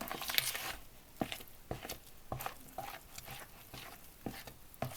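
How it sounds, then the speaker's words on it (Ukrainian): Wet scraping and soft clicking of a spoon working through thick semolina pancake batter in a bowl, steady and close, with no voices. "Тепер ретельно вимішую"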